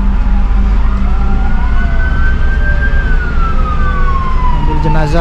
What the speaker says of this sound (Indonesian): Ada ambulan belakang.